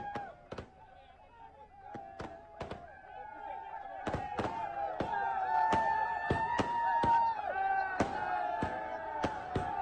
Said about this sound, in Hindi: देखिए आवाज भी आ रही होगी आपको आतिशबाजी की